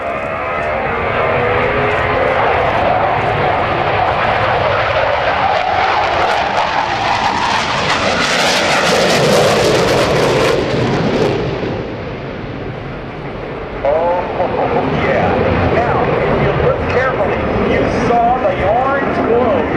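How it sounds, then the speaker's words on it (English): An F/A-18C Hornet jet roars past at the 2009 NAS Oceana airshow, a loud, rising and falling engine rush that swells to a peak and fades, with a public-address announcer talking over it. "Let's listen to the sound of freedom as your United States Navy takes to the sky in the FA-18 Hornet."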